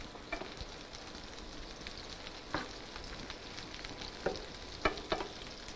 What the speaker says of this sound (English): we're going to go ahead and let these saute a little bit